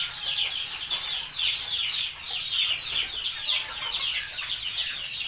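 Mongolian black chickens cluck in a busy, overlapping chorus, many soft repeated calls of moderate loudness continuing throughout, no talking.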